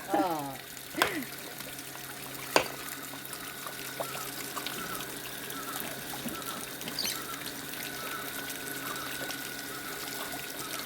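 Water pours and trickles steadily, with a few bird chirps near the start and faint voices in the background.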